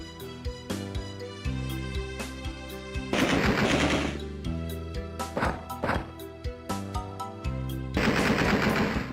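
Shotgun fire in the video game Alone in the Dark 2: repeated loud blasts in clusters over droning game music, close and punchy, with no talking.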